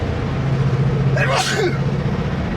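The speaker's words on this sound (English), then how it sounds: "I want to sneeze." A single sharp sneeze bursts out over a steady low engine rumble, as if inside a moving car.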